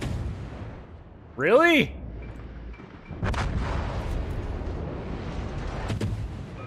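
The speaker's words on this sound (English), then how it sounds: "Got one torpedo hit, 3 torpedo hits, and he's gonna flood as a result" Torpedo hits land in the World of Warships naval game as a deep, booming explosion with a sweeping whistle, followed by a rumbling second blast and crackle; a voice briefly reacts.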